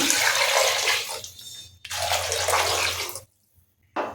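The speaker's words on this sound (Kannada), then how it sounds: "ಇದೇ ಬೌಲಲ್ಲಿ ಇದೇ ಮೆಜರ್ಮೆಂಟಲ್ಲಿ 2 ಬೌಲಷ್ಟು ನೀರು ಹಾಕ್ತೀನಿ ನಾನು" Water pours loudly into a cooking pot in two rushing bursts with a short pause between them, then cuts off and briefly starts again.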